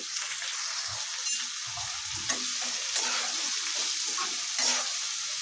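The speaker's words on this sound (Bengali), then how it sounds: "গাজরটা ভাজা হয়ে গেলে এর মধ্যে দিয়ে নিচ্ছি আমি কিছু বরবটি" Carrots, green beans and cauliflower fry in a pan for a Chinese-style vegetable dish, giving a steady close sizzle with scrapes and clinks of stirring throughout, no talking.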